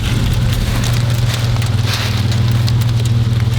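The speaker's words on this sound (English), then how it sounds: "It's hailing!" Hail pours down on and around a parked van under a tree in Montana, a dense, loud, steady patter of ice hitting the roof and ground with a low rumble beneath.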